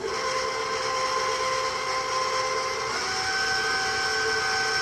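An electric mixer drones steadily as it mixes banana bread cookie dough with vanilla, a constant close motor hum with a slight pitch change partway through.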